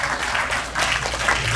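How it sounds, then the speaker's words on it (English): Dense applause from a gathered crowd at a dinner event, steady and close throughout with a brief dip midway, no voices standing out above the clapping. "we all deserve a special applause for ourselves"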